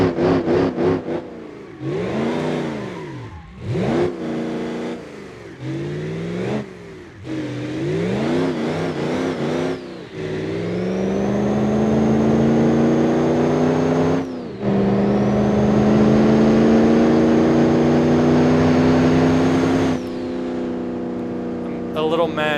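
A limousine engine in BeamNG.drive revs hard through repeated rising and falling sweeps, then holds a loud sustained high-rpm roar with tonal whine, close and dominant throughout.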